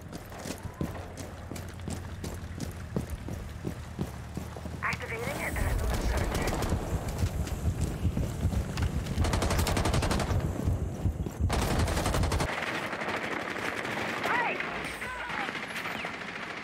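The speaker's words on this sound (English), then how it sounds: "She hasn't thrown it yet, but I can hear her shooting." Rapid video game gunfire, bursts of automatic shots rattling steadily over several seconds, loud and close, with game effects and voices talking over parts of it.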